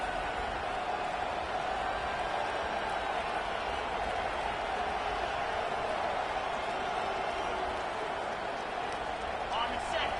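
A steady roar of a large video-game stadium crowd at a football game fills the space, a constant dense wash of cheering with a commentator's voice talking faintly underneath.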